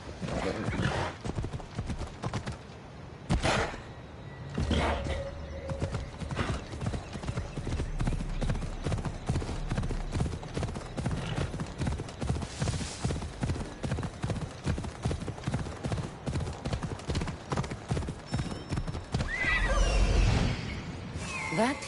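Horse hooves clip-clop in a steady, continuous rhythm while riding in the video game Assassin's Creed Odyssey, with game music and ambient sounds underneath and a brief neigh near the end.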